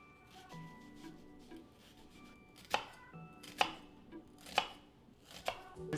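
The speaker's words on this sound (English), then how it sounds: "I'm gonna cut half an onion." A knife chops through half an onion on a cutting board while prepping Chinese-style fried rice, giving a handful of sharp, close chops at an uneven pace over a quiet kitchen background.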